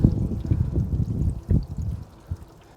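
Water poured over a Jaguar car to trace a boot leak, a low splashing and trickling stream in irregular surges, close and fairly loud, fading toward the end with no voices.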